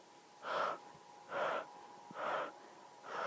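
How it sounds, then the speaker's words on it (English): Slow, controlled breathing during Pilates standing arm circles: four even, soft breaths recur about once a second over a quiet background with a faint steady hum. "a long, slow inhale and a long, slow exhale"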